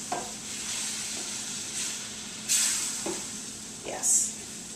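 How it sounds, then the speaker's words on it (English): A pan is deglazed with alcohol after searing steak, giving bursts of loud sizzling steam that flare up and fade several times over a steady background fry, close by. "And now I'm going to deglaze real quick. So I'm going to deglaze this."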